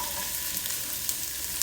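Asparagus and green beans tossed into a hot stir-fry pan for a shrimp and cauliflower dish crackle and sizzle steadily, with a few sharp pops close up and no talking.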